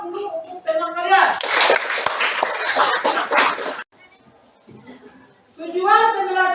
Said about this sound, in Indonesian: berikan aplaus dulu untuk teman kalian